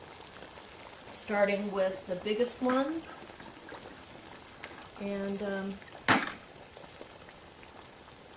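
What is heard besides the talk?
beets being dropped into boiling water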